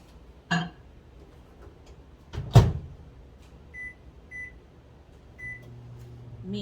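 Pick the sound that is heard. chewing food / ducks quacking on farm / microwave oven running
microwave oven running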